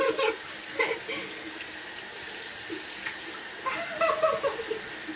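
Water runs steadily from a tap with a soft, continuous splashing hiss, rising slightly toward the end.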